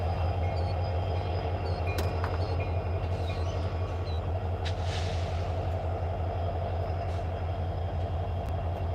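Train M210 rumbles past close by on the rails in Alabama, a loud, continuous roll with a deep low drone, wheel clatter and a few sharp metallic squeals and clicks along the way.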